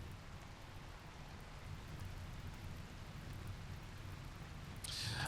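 Rain falls in the colony-building video game RimWorld as a soft, steady patter with a faint hiss throughout, swelling briefly louder right at the end.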